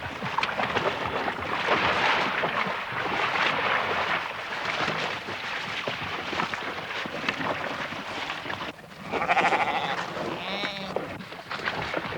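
Sheep bleat on Hebrides crofting land, several calls heard near the end over steady wind buffeting the microphone. The earlier part of the clip is mostly rushing wind.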